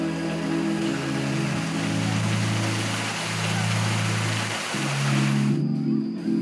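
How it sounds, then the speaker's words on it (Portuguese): A waterfall inside a park greenhouse at night gives a loud, continuous rushing wash of water, with steady background music playing over it. "Tem também uma cachoeira legal."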